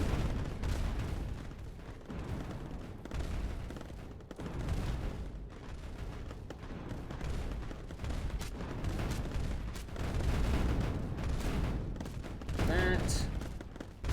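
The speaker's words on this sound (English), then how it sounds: "I'm gonna try to keep some of them separate so that they don't get hit by the long-range artillery." Long-range artillery in the video game Mindustry fires in a dense, continuous barrage of booms and rumbling blasts, loud throughout with a brief sharper burst near the end.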